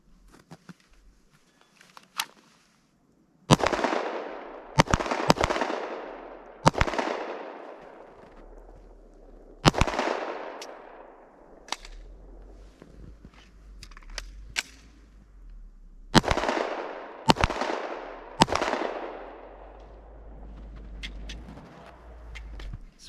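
Pistol gunshots on a range during FBI qualification shooting, a dozen or so sharp, ringing cracks fired singly and in short pairs with uneven gaps, each shot trailing off in a brief echo, fairly close.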